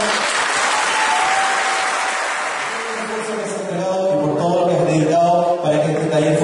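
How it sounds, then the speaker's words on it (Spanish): Audience at an Arab dance performance applauding loudly and continuously, dense close clapping that carries on throughout with a tonal hum emerging beneath it later. "Más fuerte el aplauso, por favor."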